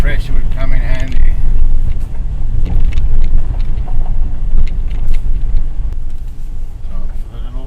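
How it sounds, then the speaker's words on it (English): A GWM P-Series ute drives over a choppy gravel section with a loud, constant low rumble and rattling from the tyres and body, while a person talks over it. "Choppy on this gravel section."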